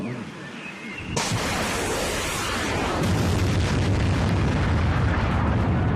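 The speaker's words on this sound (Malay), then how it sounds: "kedengaran satu letupan dari arah laluan truk ulang bekal" A loud explosion erupts suddenly on a jungle supply-truck route during a reenactment of the 1981 Ulu Legong ambush, bursting into a sustained, broadband roar that fills the rest of the clip.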